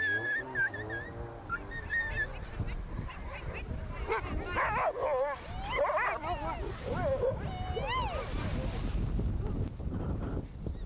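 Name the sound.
dog barking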